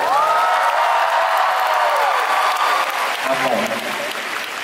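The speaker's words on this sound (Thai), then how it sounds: "ขอเสียงปรบมือให้พี่ถาได้ไหม" A concert crowd gives loud, sustained applause with cheering and high whoops, a dense roar that eases slightly toward the end while someone speaks briefly over it.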